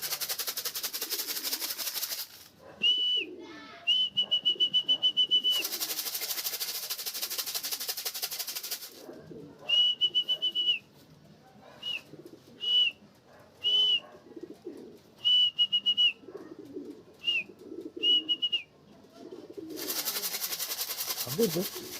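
Racing pigeons at a loft coo and call in short bursts, with longer stretches of loud broadband noise in between and a voice talking at times.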